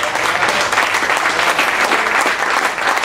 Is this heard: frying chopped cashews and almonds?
no